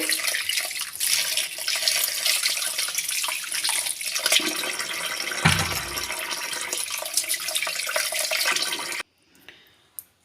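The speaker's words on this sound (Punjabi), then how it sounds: "ਹੁਣ ਆਪਾਂ ਇਹਨੂੰ ਚੰਗੀ ਤਰ੍ਹਾਂ ਆਪਾਂ ਇਸ ਨੂੰ ਪਾਣੀ ਨਾਲ ਧੋ ਲਵਾਂਗੇ" Tap water runs steadily over kohlrabi being washed in a kitchen sink, a continuous splashing rush with small shifts as the vegetable is handled, then the flow cuts off to near silence at the end.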